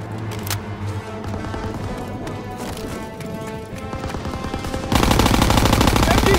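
Machine gun fire from an MG pillbox in the Call of Duty: World War II game, heard as steady loud bursts of gunfire over a dense battle mix that gets louder and denser toward the end.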